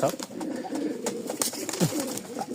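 Pigeons in a home loft of racer, lotan and giribaz breeds coo repeatedly, with low throaty calls rolling on continuously alongside soft rustling and wing flutters, fairly close and steady throughout.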